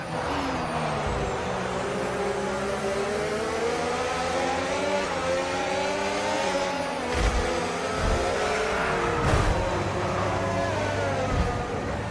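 Race cars, including a McLaren and an Aston Martin, in a racing video game, their engines a continuous droning, rising and falling whine that stays loud and steady throughout, with no talking.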